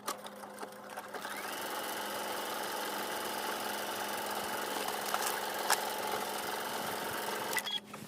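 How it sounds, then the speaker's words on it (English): A sewing machine stitches a pocket seam on a trench coat, running in one continuous steady whir for about seven seconds before stopping, with no voices. "take it to the machine and give it a stitch"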